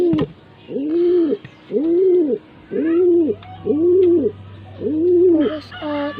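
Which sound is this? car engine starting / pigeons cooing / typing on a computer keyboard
pigeons cooing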